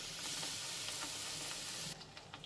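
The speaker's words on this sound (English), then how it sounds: "Nicely coat it, and then I will put them into the hot oil." Batter-coated potato slices frying in hot oil, a close, dense hissing sizzle that holds steady, then drops to a quieter bubbling crackle near the end.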